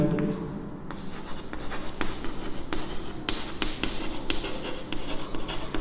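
A pen scratches steadily across paper as a volume formula is written out by hand, with continuous close strokes and small taps over a low room hum.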